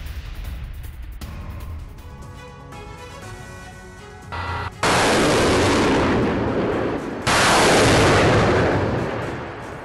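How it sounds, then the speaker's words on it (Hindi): Artillery fire during a Russian attack on Sumi, Ukraine: heavy, sustained rumbling blasts that swell loudly in the second half, following quieter mixed sound at the start, with no voices. "रूसी सेना ने सुमी में आर्टिलरी से फायरिंग की है।"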